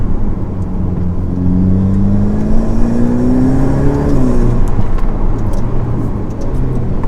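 A Ferrari F8 Tributo V8 sports car is driven with a loud, close engine note that climbs steadily in pitch as it accelerates, then drops back to a lower rumble.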